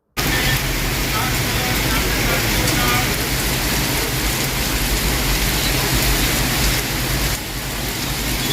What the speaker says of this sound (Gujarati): ભારે વરસાદ પડી રહ્યો હોવાના સમાચાર મળે છે